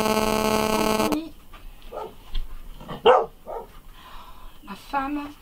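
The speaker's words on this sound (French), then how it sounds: "ils arrêtent pas d'aboyer" A dog barks and yips in short bursts, loud and close indoors, with whimpering between the barks and a person talking over them.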